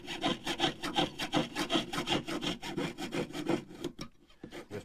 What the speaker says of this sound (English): it's pierced out, cut out, and trimmed